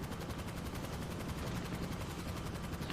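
Turret guns on the Avenger in a video game fire in steady, continuous rapid bursts, a dense rattling stream of gunfire heard alone at moderate level.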